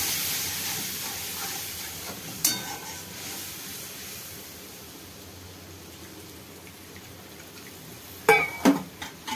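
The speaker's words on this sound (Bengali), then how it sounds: "মাছটা ঝোলটা ফুটে গেছে" Fish curry gravy with turmeric, salt and water simmering in a pot, a steady soft bubbling hiss throughout with a few brief louder pops and clinks near the start and end.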